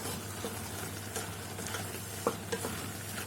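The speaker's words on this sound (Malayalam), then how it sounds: "എന്നിട്ട് നമുക്ക് ഫ്ലെയിം നന്നായിട്ട് കൂട്ടി വെക്കാം. ഇതെല്ലായിടുമായിട്ട് മിക്സ് ചെയ്യാം." Prawns being stir-fried for a Kerala-style chemmeen thoran in a pan over a high flame, giving a steady close sizzle with a few louder scraping stirs.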